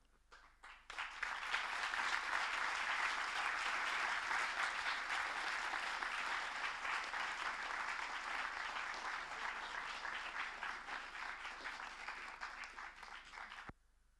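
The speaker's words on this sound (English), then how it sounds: "Please, some applause for them." An audience at a student final-project presentation session applauds the project team. The clapping swells in after a moment, holds dense and steady for about twelve seconds, then stops abruptly.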